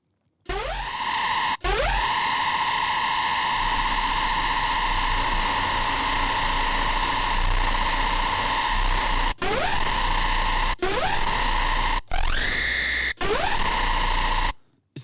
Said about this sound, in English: Screeches needs to just to be distorted, crazy, screamy.